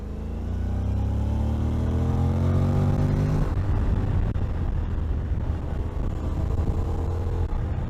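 A Honda NC 750X motorcycle accelerates on a public road, its engine note climbing steadily in pitch through a loud rev before shifting into a rougher, rumbling roar with wind buffeting the microphone.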